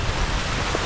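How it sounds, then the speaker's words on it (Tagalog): Heavy, steady rain pouring down outside a shelter hut in rice paddy fields, a dense continuous hiss that is loud and close with no voices. "Walang tigil yung ulan dito."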